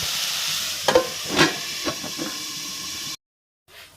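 Onions frying in a pan for an onion curry, a steady close sizzle with a few sharper scrapes of a spoon stirring, cut off abruptly near the end before a faint return.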